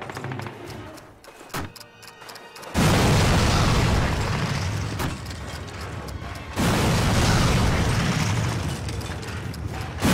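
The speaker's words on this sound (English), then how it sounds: "Now place your bombs on them." Explosions from bombs in the World War II shooter Call of Duty, with two heavy, sustained blasts that roar loudly and fill the soundscape, after an earlier stretch of clicking mechanical noises and brief pops.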